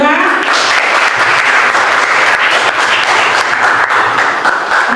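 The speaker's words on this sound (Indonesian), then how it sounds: "Oke, aplaus untuk teman kita Putra." A classroom full of students applauds a classmate after his presentation at a school in Surabaya, dense, loud and steady clapping from many hands nearby lasting several seconds.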